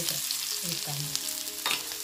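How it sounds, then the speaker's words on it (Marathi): Onion frying in oil in a pan for a wild monsoon vegetable dish, a steady close sizzle heard under a brief spoken voice. "कांदा भाजून घ्यायचा ना,"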